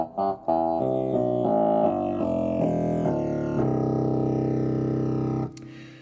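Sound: pipe organ 16-foot stop playing low notes

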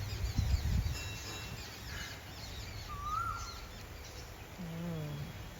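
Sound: Asian koel calling

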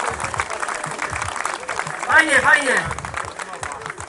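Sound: audience applause at a festival

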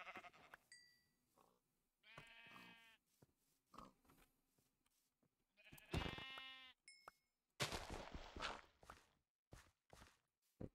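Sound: sheep bleating in the video game Minecraft

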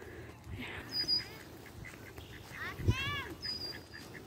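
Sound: ducks quacking at a pond

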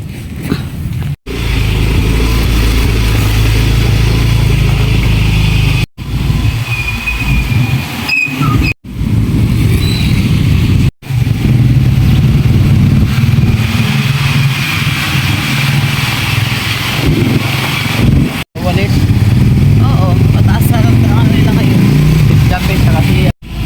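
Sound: motorcycle engine

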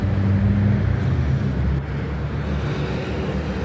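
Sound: fire engine driving past on the street

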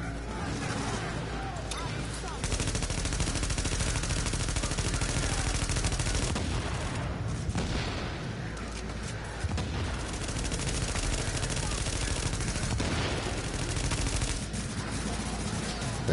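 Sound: gunfire from a video game

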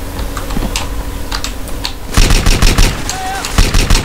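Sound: shotgun firing in GTA San Andreas video game

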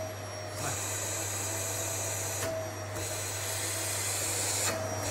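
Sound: vacuum cleaner machine running

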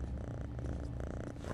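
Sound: kitten purring, from video game Postal 2

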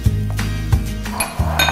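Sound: plates and dishes clinking as they are brought

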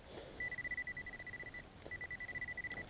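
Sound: metal detector signal beeping

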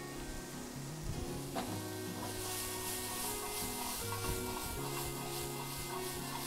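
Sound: sautéing green and red peppers for Portuguese salt cod

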